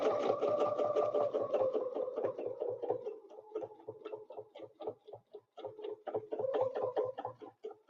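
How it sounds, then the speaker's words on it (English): Sewing machine stitching a snowflake quilting design, a steady rapid mechanical whir of needle strokes that runs continuously, pausing and restarting briefly midway, close and moderately loud with no talking. "I'm just going to keep stitching."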